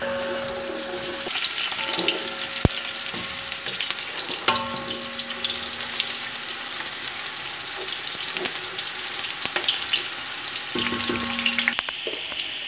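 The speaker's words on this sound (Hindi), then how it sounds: "प्याज को हम ब्राउन कर लेते हैं।" Onions fry and brown in oil in a large pot, giving a steady, close sizzle with occasional stirring scrapes and no talking.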